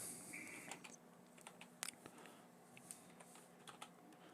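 Keys tapped on a computer keyboard during a live stream, a quick cluster of close clicking keystrokes at the start, then scattered lighter taps with a faint tone in the background.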